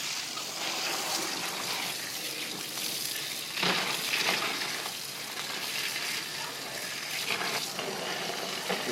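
A bucket fills with water outdoors on a rainy day for an ice bucket challenge, an unbroken rushing, splashing stream that swells briefly partway through and stays fairly quiet and close throughout.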